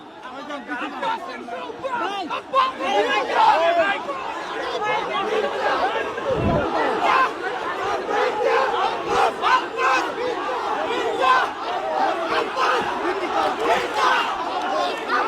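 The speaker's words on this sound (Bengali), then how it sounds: "৮ আসনের বিএনপির মনোনীত প্রার্থী মির্জা আব্বাসকে ঘিরে চতুর্দিকে সকলে কিন্তু ভুয়া ভুয়া স্লোগান দিচ্ছেন" A dense crowd surrounds BNP candidate Mirza Abbas for Dhaka-8 and shouts "bhuya bhuya" slogans, a loud, chaotic mass of voices chanting and yelling close by and without a break.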